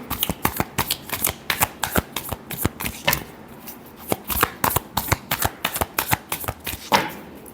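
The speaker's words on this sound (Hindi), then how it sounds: "Last shuffle." A deck of cards is shuffled close up in quick repeated riffles and slaps, making a dense run of sharp crackling bursts with brief pauses between them.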